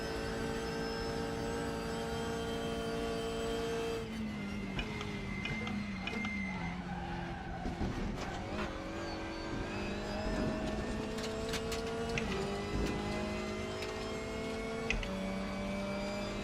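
Front-wheel drive WTCR touring car in the video game Raceroom, driving down the long Bathurst straight, a sustained engine drone with steady tonal whine, distinct gear shifts and scattered ticking clicks.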